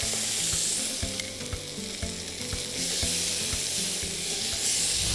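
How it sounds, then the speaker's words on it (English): A large piece of lamb searing in a hot pan, a strong steady sizzle with crackling pops and a few knocks from handling, close and continuous with no talk. "That is 1 big piece of lamb. This is the first stage to sear it."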